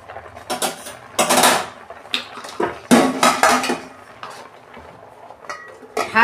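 Metal clanks and rattles of a lid being handled and set onto a pot of tomatoes simmering for homemade tomato sauce, several loud close knocks and clinks in an irregular sequence.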